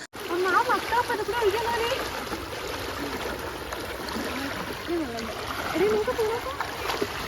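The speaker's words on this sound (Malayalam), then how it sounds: "ആ തോട്ടിന് അത്യാവശ്യം നല്ല ഒഴുക്കുണ്ട് വെള്ളം കുറവാണെങ്കിൽ നല്ല ഒഴുക്കുണ്ട്" Small stream in Kerala running shallow but fast, a steady watery rush heard close by beneath people chatting throughout.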